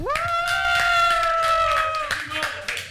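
Studio audience applause and cheers for a guest named Roland on a French sports talk show, a loud sustained burst with a tonal musical sting over it, easing off near the end as voices come in.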